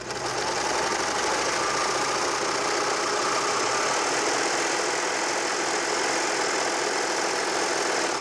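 A Baby Lock sewing machine stitches through fabric with a fast, steady mechanical whir and rapid needle clatter, loud and close, running without a break and with no talk.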